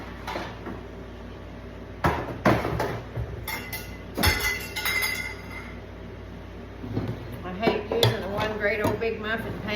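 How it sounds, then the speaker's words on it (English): A metal muffin pan is grabbed and handled in a home kitchen during breakfast muffin baking, giving a few sharp clanks and rattles with quieter shuffling between them. "Let me grab another muffin pan."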